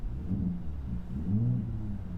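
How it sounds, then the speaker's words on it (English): A 2024 Ford F-150 Raptor idles in sport mode with a low exhaust burble, a close, soft rumbling pulse that swells slightly near the end. "A little louder. Get a little burble in the exhaust."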